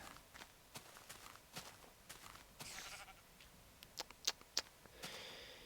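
Goat in a Minecraft-style block game bleats in a few short, sharp cries near the end, after a stretch of faint footsteps and quiet game ambience.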